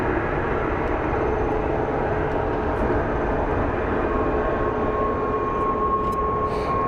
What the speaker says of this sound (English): looks like we do have an Airbus A350 pushing out right now